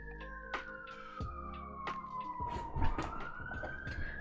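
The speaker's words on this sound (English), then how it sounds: "Hopefully you could hear the sirens" A police siren wails, its pitch sweeping slowly down and back up, with thumps and bumps of movement nearby.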